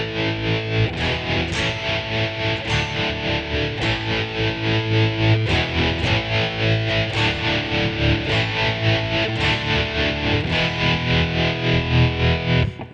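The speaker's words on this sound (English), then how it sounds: "We're using the British high gain here. But we can add some other effects like tremolo," Distorted electric guitar through a Line 6 POD 2.0 on its British high-gain amp model with tremolo, strummed chords pulsing steadily and loud for the whole stretch, with no talking.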